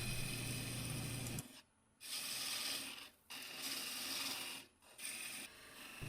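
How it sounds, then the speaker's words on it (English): A wood lathe spins a Padauk disc as a cutoff tool scrapes into it, producing harsh rasping bursts broken by several short pauses, fairly quiet overall. "she's just turned one side flat and she's going to cut the disc off."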